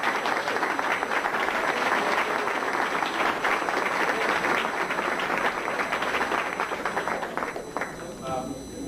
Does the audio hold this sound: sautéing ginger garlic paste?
no